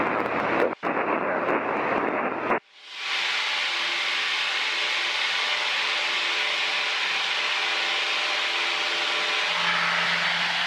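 Piper Cherokee light aircraft engine droning steadily during a climb, with a loud broadband roar that briefly cuts out and then settles into a constant hum heard from inside the cockpit.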